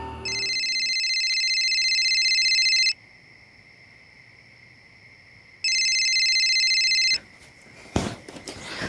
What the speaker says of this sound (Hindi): एक दिन सोफिया ने सामने से मुझे फ़ोन किया